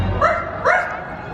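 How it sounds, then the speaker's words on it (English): A small dog gives a few short, yippy barks spaced apart, fairly close and moderately loud, during a Halloween park show. "Where is that dog?"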